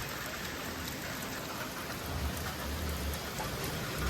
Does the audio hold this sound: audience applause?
no